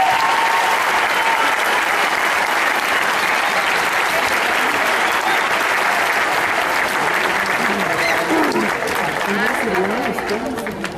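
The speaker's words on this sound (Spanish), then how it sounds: "Un fuerte aplauso." A graduation ceremony crowd breaks into sustained applause, a loud, dense wash of clapping that carries on for several seconds, with voices rising over it toward the end as it begins to fade.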